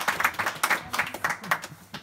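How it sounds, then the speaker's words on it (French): A small audience on a French quiz game show claps for a contestant, a short burst of uneven, fairly close hand claps with a voice talking underneath. "on l'applaudit bien fort."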